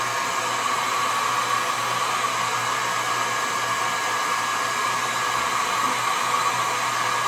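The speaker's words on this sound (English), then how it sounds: "I don't have a nice blow dryer" An old hair dryer blows continuously at close range, a steady whirring hum with an airy rush that never changes pitch or stops.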